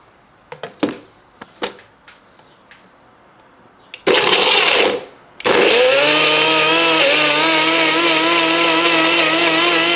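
A blender processing fresh coconut starts up with a loud, steady motorized whir after a few light clicks and knocks, cutting out briefly before roaring on continuously at high speed.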